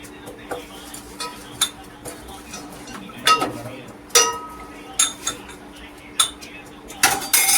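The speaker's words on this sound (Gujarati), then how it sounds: "હવે આપણે એને હલાવી દઈશું." A utensil stirs Maggi noodles with ghee in a cooking pot on a gas flame, giving sharp metallic clinks and scrapes at irregular intervals over a low background sizzle.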